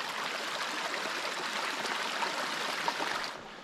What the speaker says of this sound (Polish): No i znowu wbijamy na środek potoku.